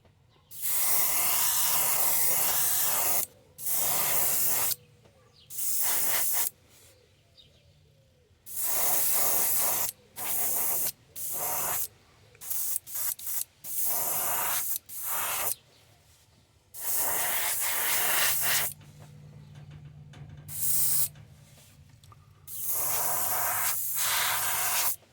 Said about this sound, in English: we'll just spray this pearl white all over him